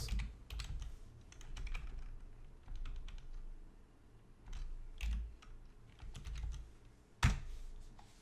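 Bursts of typing on a computer keyboard as an SQL query is entered, quick clusters of key clicks separated by short pauses, ending on one firmer keystroke, close and quiet.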